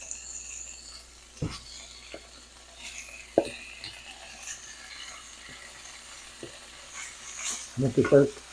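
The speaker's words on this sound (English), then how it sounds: "I'm going to nicely brown the pork first" Small pieces of pork country ribs browning in a pot on the stovetop give a soft, steady sizzle, with a few sharp utensil knocks and a louder burst of scraping and stirring near the end.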